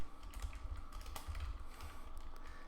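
Code being typed into a computer keyboard for a C program: steady, close clicking keystrokes in an irregular rhythm, moderately loud, with no voices over them.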